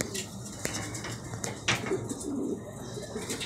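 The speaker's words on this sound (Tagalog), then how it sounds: "Ayan mga kalapatids." Pigeons coo softly at close range amid clinks and light background bustle, the low throaty calls faint and intermittent over a short stretch.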